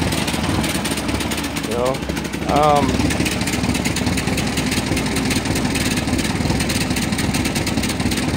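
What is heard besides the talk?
1954 Ferguson TO-30 tractor engine idling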